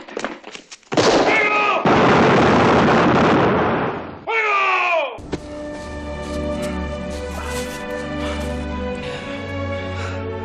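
Weapon fire in a film scene: a loud burst of blasts and noisy roaring explosions in quick succession, followed by swelling orchestral music.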